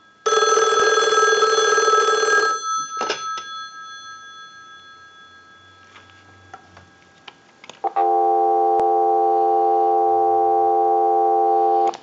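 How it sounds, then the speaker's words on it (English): An ITT 2500 desk telephone rings twice, then after a quiet stretch a steady, loud, continuous dial tone hums unbroken to the end. "we'll give you some dial tone"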